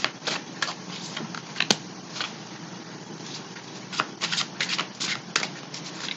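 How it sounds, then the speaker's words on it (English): An Alice in Wonderland tarot deck being shuffled and cards pulled, a steady patter of soft close flicks and slides with scattered sharper snaps, alone without talk. "I'm going to go ahead and pull the cards and pull the clarifiers as I go."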